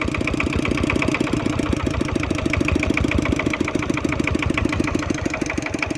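An engine runs loud and close with a rapid, even, throbbing rhythm that holds steady throughout, with no clear change in pitch.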